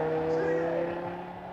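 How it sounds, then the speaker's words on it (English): The MotoGP safety car pulls away at the Aragon circuit before the 2010 race, its engine tone rising and then fading, with a commentator's voice and crowd noise around it. "Away goes the safety car."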